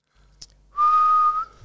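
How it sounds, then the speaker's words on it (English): A woman whistles a single steady, fairly loud note for about half a second after a brief soft breath, the tone clear and sustained before trailing off. "I can also whistle crooked."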